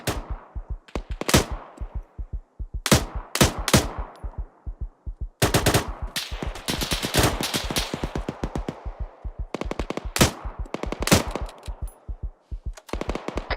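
Bursts of automatic gunfire and single rifle shots in the ArmA 3 military game, loud and close, coming in rapid strings and separate volleys across a firefight, with short pauses between bursts.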